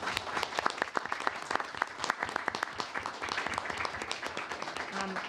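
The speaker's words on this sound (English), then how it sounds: "which deserves a round of applause" A meeting-room audience claps steadily for Purple Heart Medal recipients at a town Select Board meeting, a dense, sustained round of applause close by with no voices over it.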